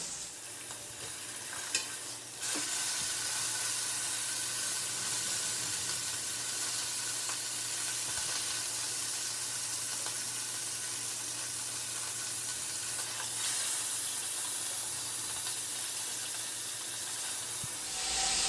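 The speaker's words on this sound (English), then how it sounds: "when you're searing it, you want to make sure that you're searing it over like a medium-high to even high heat" Beef pot roast searing in a pan on the stove over medium-high to high heat, a steady close sizzle and hiss running throughout with a few brief clinks near the start.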